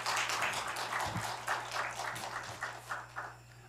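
An indoor audience claps to welcome a presenter at a university forum. The applause is a steady, moderately loud wash of many hands with a few sharper claps, over a constant low hum.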